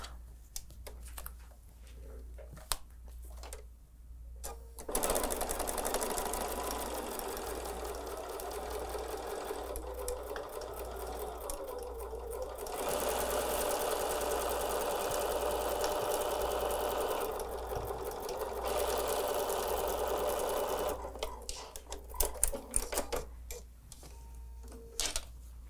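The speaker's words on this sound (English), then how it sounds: "I've got a seam guide on my machine that's going to help me sew a nice true 1/4 inch" A sewing machine runs steadily while stitching a quarter-inch seam on a Christmas quilt block, with a continuous close mechanical whir from about five to twenty-one seconds, quiet handling before and after.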